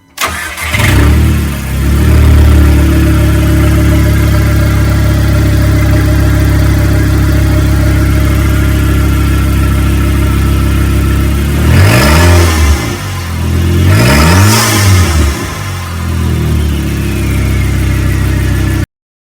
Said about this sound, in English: hearing that engine run for the first time was so satisfying